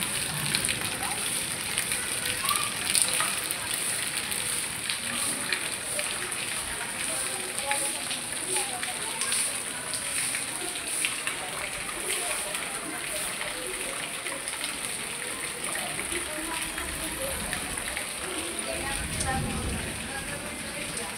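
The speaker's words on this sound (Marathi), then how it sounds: "पाऊस पडला आज आमच्या इथं." Rain falling in Mumbai, a steady dense hiss of drops on surfaces that continues for the whole stretch at an even, moderate level.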